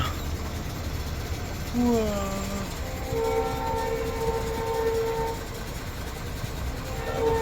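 A truck driver's view as a train passes in the rainy season with a steady rumble, and its horn sounds in two long tonal blasts, the second held for a couple of seconds, with faint voices in the background.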